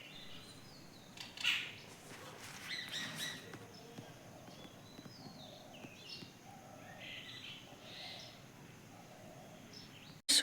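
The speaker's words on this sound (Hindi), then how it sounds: "उनकी चहचहाहट बहुत प्यारी लगती है सुनने में" Faint birds chirp and call intermittently on a quiet village morning outdoors, thin high tweets scattered over soft background noise.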